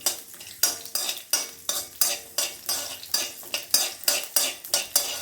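Rice flakes roasting in a wok for ada pradhaman, stirred with a utensil in steady, rhythmic scraping strokes about three per second over a faint sizzle, close and clear with no talk.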